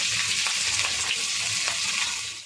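Onions tossed into hot oil seasoned with panch phoron, a loud, steady, close sizzle with faint stirring scrapes as they fry, and no voices.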